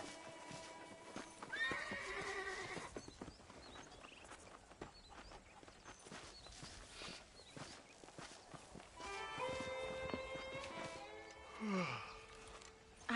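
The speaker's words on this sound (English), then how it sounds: "Getting shot, then riding a horse seems to take it out of you" Horse hooves clip-clop at a walking pace in the video game Red Dead Redemption, with a horse neighing twice over a low background; the animal sounds close.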